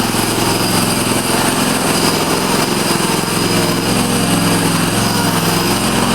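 The engine of a remote-controlled TRX-42 hydrostatic mower, working a steep grassy hill, runs loud and close at high revs with the blades off, a constant buzzing drone that holds steady throughout.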